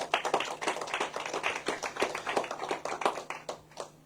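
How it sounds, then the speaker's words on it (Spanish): A church congregation claps at a moderate level, the claps rhythmic and fairly distinct, with no one speaking. "Le damos un aplauso al Señor."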